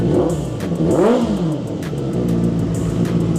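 A QJMotor SRV600 four-cylinder cruiser motorcycle engine revs sharply up and back down, then keeps running at a loud, steady rumble close by.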